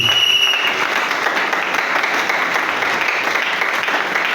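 A church congregation applauds and cheers, loud continuous clapping from many hands mixed with crowd noise, steady throughout without a break.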